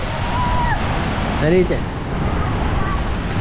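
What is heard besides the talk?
large storm waves at the sea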